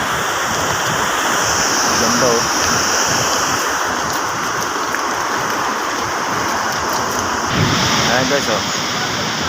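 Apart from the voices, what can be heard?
Gullfoss waterfall, Iceland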